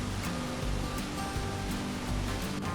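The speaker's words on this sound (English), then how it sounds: "Waterfall number 7." Waterfall number seven on Oregon's Trail of Ten Falls gives a constant broadband roar of falling water, dense and even throughout, with no one speaking.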